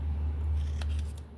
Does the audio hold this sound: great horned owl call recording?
no